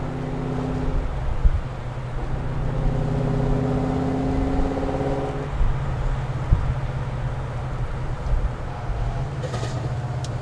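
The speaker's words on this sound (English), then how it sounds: "Man, the downshifts even sound good." A 1982 Ford Mustang Fox body with a swapped Coyote V8 downshifts, its engine drone heard from inside the car shifting in pitch around the midpoint before settling into a steadier rumble with a few sharp knocks.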